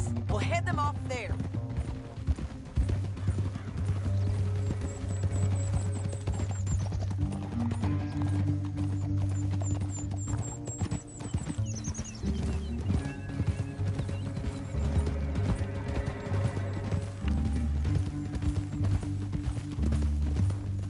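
Rhythmic clip-clop of horse hooves trotting steadily in the video game Red Dead Redemption 2, under a continuous music score, with an occasional horse whinny.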